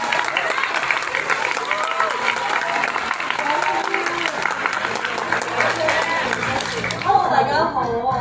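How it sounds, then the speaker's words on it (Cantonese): An audience at a stage play applauds a performer, with dense, sustained clapping and some crowd noise throughout, fading slightly near the end. "希望大家俾更加多嘅掌聲啊"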